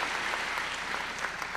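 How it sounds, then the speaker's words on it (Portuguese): A church congregation gives a short burst of applause, a soft, continuous wash of many hands clapping in a large room, heard at some distance with no voices. "Aplauda ao Senhor pelo modelo desses irmãos."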